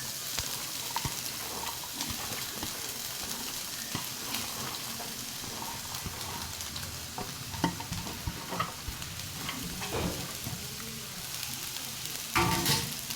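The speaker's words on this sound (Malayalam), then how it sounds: "ഹായ് ഗൈസ്, നമ്മൾ കടു വറുക്കുകയാണ്. കടു പൊട്ടിയിട്ടുണ്ട്. അതിലോട്ട് നമ്മൾ കേബേജ് ഇട്ട് കൊടുക്കുകയാണ്." Shredded cabbage fries in a pan with popped mustard seeds for cabbage thoran, a steady close sizzle broken by stirring scrapes and a few louder crackles and pops near the end.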